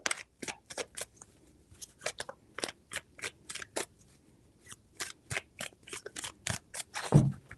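Tarot cards are shuffled in three rounds, each a burst of crisp, close riffling snaps separated by short pauses, with a slightly louder final flurry and no talking.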